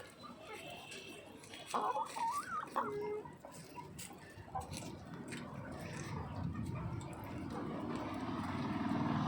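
A hen clucks close by near its egg-laying spot in a farmyard, a few short rising clucks early on, with people talking and background noise building steadily.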